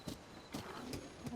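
Ganon's horse in Zelda: Tears of the Kingdom, on a beach, gives a few quiet hoof clops at an irregular pace, faint and short, with no talk over it.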